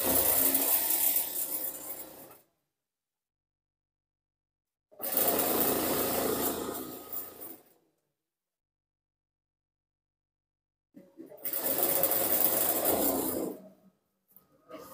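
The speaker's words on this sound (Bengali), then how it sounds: "এভাবে ধরে আমরা একটি সাইড সেলাই করছি" Sewing machine stitching the side seam of plain cotton pajamas, running in three separate bursts of about two to three seconds each, with full silence between them.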